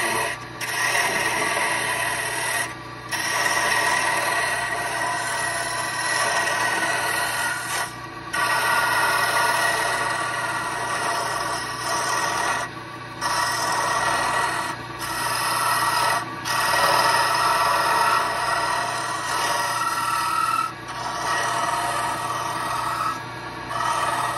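A mini carbide tool scrapes and rasps against spinning wood on a lathe while shaping small icicle-shaped Christmas ornaments, a loud continuous cutting hiss broken by several short pauses as the tool lifts away.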